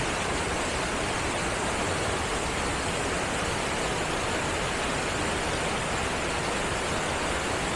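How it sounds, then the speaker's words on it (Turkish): Ravana Falls in Sri Lanka pours in a steady, dense roar of falling water, loud and unbroken throughout with no other sounds. "Çok güzel bir şelale."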